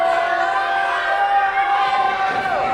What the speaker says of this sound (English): this crowd letting Gall hear it